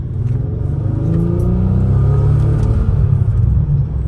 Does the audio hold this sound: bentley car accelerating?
yes